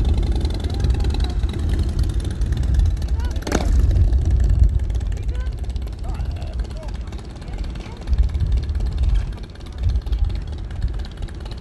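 A Harley-Davidson Heritage Softail motorcycle engine runs with a low, steady rumble close by, under voices talking over it, with a brief sharp sound partway through.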